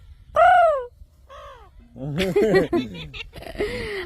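A pet parrot gives harsh, crow-like caws in short separate bursts, followed by a longer rough run of calls, with a person's voice and some laughing-like sounds mixed in.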